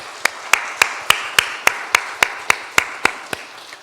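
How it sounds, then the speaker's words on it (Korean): About a dozen sharp claps from a church congregation, struck together in a steady, evenly spaced rhythm, loud and close. "이들을 위해서 한번 감사의 박수 한번 하겠습니다."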